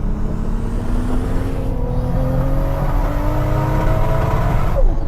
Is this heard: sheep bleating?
no